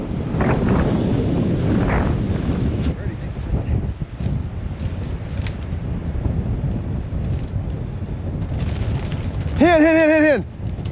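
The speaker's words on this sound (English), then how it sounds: "The wind is blowing 40 miles an hour with gusts up to 50." Strong wind of about 40 mph gusting to 50 buffets the microphone on open North Dakota land during a blizzard. It is a loud, constant low roar throughout, with a brief whistle-like tone near the end.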